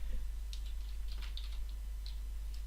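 Someone types on a computer keyboard, producing faint, irregular keystroke clicks in short bursts over a constant low electrical hum.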